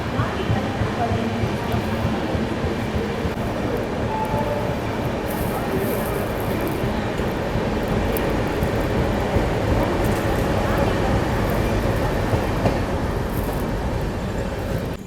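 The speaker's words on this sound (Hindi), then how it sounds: "अभी अपनी ट्रेन स्किप कर रही है रानी कमलापति रेलवे स्टेशन" Heard from on board, the AP Express runs without stopping through Rani Kamlapati railway station, a steady, loud rolling rumble with wheel clatter throughout.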